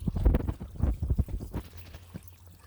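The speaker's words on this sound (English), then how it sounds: "here you can see this is where the water discharges from the stormwater" Water discharging from a dislodged concrete stormwater pipe into a detention pond, an irregular splashing pour with uneven bursts, moderately close, fading slightly toward the end, no talk.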